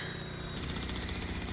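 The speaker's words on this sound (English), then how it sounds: "we have the jackhammer being used today to make more holes" A jackhammer breaks ground to make holes for pressure-treated posts of a DIY off-grid solar rack, a continuous rapid pounding rattle, steady and fairly distant, with no voices.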